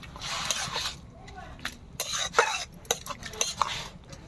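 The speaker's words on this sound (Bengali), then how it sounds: "একটু নাড়িয়ে নেব।" Grated papaya is stirred in lightly salted water in a wok, with intermittent scraping and clinking strokes of the utensil against the pan and a brief cough or throat sound among them.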